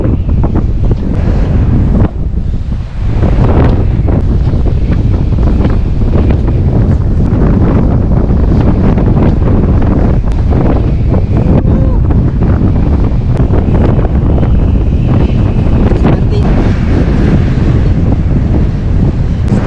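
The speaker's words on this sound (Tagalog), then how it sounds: "Talaga ng hangin." Strong wind roars and buffets loudly and continuously while riding a motorcycle in the Bali highlands, with a low rumble like rushing water beneath and occasional faint voices.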